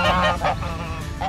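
Geese honking while grazing a pasture above a market garden on a farm, loud and close, a few nasal honks in quick succession with no one talking.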